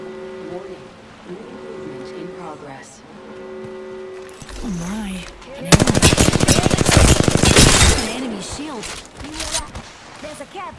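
Gunfire in the video game Apex Legends, a dense burst of rapid automatic shots in the middle, loud and close, surrounded by game sounds and voice lines.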